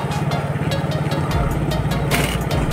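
Cars pass along an open roadside, engine noise swelling and fading with changing low rumbles, steady and fairly close, with no talking.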